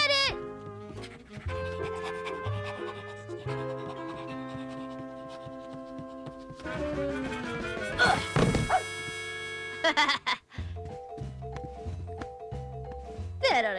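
A cartoon puppy barks in an animated children's show, short yips scattered through busy orchestral music and sound effects, with a thump or crash midway.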